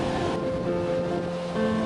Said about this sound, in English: you can see the waves out here are very strong